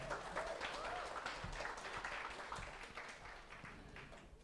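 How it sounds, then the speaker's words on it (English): Audience applause at a public health seminar on community empowerment, a steady wash of clapping from a crowded hall that gradually tapers off. "Let's give our biggest round of applause for them."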